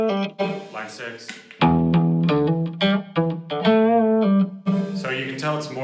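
Electric guitar run through a Line 6 amp, distorted with a bit of reverb and a mid-heavy tone, played as a quick series of loud, close, rhythmic notes and chords that fill the whole stretch.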